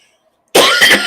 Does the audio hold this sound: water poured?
no